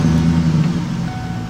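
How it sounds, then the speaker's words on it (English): A 2005 GMC Sierra pickup engine runs with a loud, steady low rumble from close by, holding an even note with no voices. "Start the truck up."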